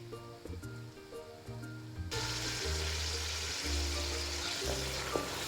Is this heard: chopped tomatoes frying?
yes